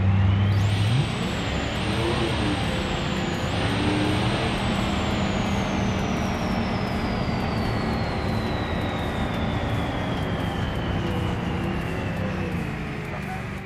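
A truck brakes hard in BeamNG, a loud sustained roar of engine and tyres, with a descending whine sliding down steadily as the vehicle slows over several seconds.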